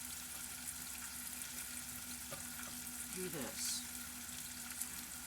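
Meat stirred in a pot for turkey noodle soup, sizzling steadily at low level with a brief scraping stir midway and a few quiet words spoken over it.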